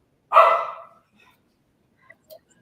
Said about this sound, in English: especially the dog answers at this moment